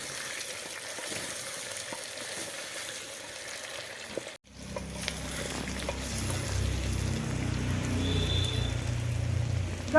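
Potatoes fry on a mud stove, a steady rain-like sizzle that drops out briefly midway and then returns fuller and louder with a deeper crackling hiss, close and continuous with no talking.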